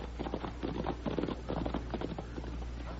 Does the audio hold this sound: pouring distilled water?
no